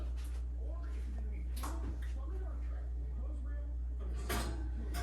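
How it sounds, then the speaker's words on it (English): A two-ingredient ice cream bread goes into an oven preheated to 350 degrees, with a couple of short clattering bumps from the door or rack over a steady low hum while a person talks. "So go ahead and put it in the oven because it's already at 350."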